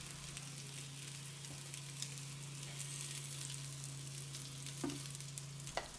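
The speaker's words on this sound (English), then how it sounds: "All the meatballs have been browned, they've been sauteed, put them to the side." Meatballs browning in an Instant Pot, a faint, steady sizzle of frying under a low constant hum, with a couple of soft clinks near the end.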